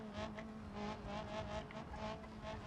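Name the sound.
car accelerating in BeamNG video game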